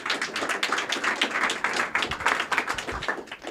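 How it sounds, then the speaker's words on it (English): Conference audience clapping after a talk at the Transparency.dev Summit, a moderately loud, rhythmic patter of many hands that continues evenly throughout. "So let's give Yogesh a big round of applause"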